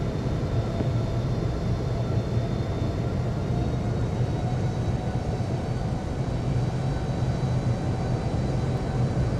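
An airliner taxiing to runway 27 in the Infinite Flight video game, a steady, even engine roar and rumble held throughout at constant loudness, with no talking.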